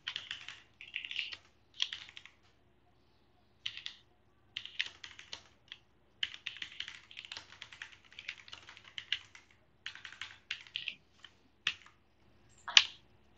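Bursts of computer-keyboard typing while HTML code is entered, quick clusters of key clicks separated by short pauses, close and fairly quiet, with a sharper single tap near the end.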